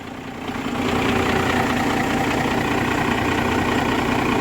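Cummins diesel engine in a truck cranking and catching, swelling within a second into a loud, steady, rumbling idle heard up close, with no talk over it.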